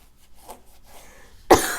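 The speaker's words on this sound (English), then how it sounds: "this cough, man." A single sharp cough near the end, loud and close, after a stretch of quiet background.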